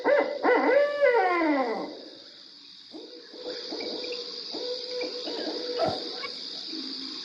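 A barred owl calling, a loud series of hooting notes that swoop downward, followed by quieter rhythmic hoots against a steady high insect-like drone in an outdoor setting.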